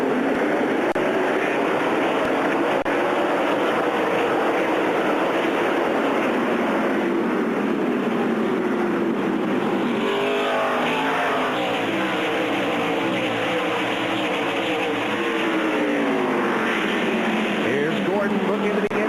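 A pack of NASCAR stock cars roars around the track at the race start, a dense sustained engine drone with shifting pitch as cars pass, under continuous commentary.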